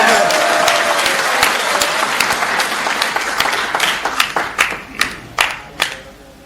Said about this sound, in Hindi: भाई जोरदार तालियां एक बार